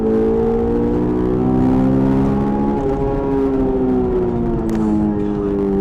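A Honda S2000 engine is revved high toward its VTEC range, giving a loud, sustained whine whose pitch climbs, then dips and steadies, heard from inside the car over road noise.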